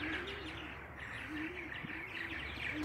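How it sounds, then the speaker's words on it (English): Nesting martins chatter busily in a continuous stream of bright chirps and twitters, with a few lower cooing notes mixed in nearby. "the martins are busy building nests and just chattering away"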